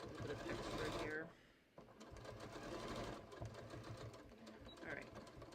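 A sewing machine stitching patio cushion covers runs in fast mechanical bursts, stopping briefly and starting again, close and loud, while a person talks over it.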